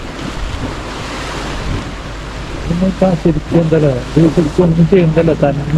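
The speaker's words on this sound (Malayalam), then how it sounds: "വെള്ളം നന്നായിട്ട് തെറിക്കുന്നുണ്ട്" Boiling geothermal hot spring water splashes and rushes continuously at Wairakei Terraces in New Zealand, a steady loud hiss like surf, with a person talking over the latter half.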